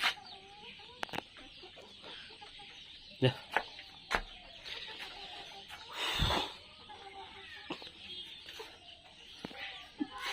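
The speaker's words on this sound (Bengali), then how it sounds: "এদিকে আছে আমাদের সিল্কি মুরগিও আছে" Silkie and other fancy-breed chickens on a farm cluck softly and intermittently, with a few sharp clicks and one louder squawk-like burst amid quiet background murmurs.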